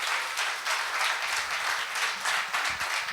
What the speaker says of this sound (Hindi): सभी लोग एक मर्तबा ज़ोरदार तालियां बजाकर।